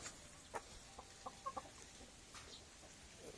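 Purebred Rhode Island breeder chickens of the mahogany type make a few soft, scattered clucks, faint and somewhat distant against a quiet background, with no talking.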